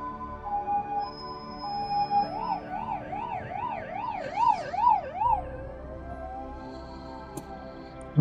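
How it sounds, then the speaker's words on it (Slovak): An ambulance siren wails in a fast, rising and falling pattern behind a motorcycle on a city road at rush hour, growing louder as it approaches, then giving way to a steady tone as it passes through oncoming traffic. "Čo tu počujem sanitku?"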